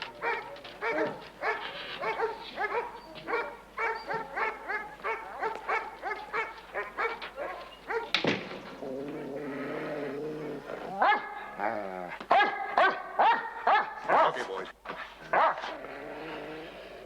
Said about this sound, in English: Beautiful dogs.